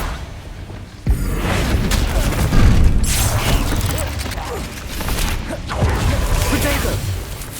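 A Confringo fire spell bursts in Hogwarts Legacy combat, a sudden loud boom followed by rumbling blasts and mechanical clatter, with speech mixed in.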